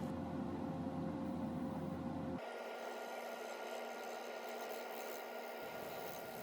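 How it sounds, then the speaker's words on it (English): Lathe running with a carbide-tipped turning tool slowly flattening the top of an epoxy and cedar bowl reversed in a four-jaw chuck: a steady broadband hiss and hum, with a low drone that drops out midway, continuous and close. "I'm using an Easywood Tools carbide tipped tool to slowly flatten out the top because of the unevenness"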